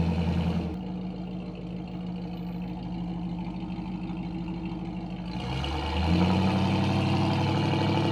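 A 1966 Oldsmobile Toronado running on Las Vegas Boulevard at night, a steady low engine drone that swells louder near the end as the revs rise, with no talk over it.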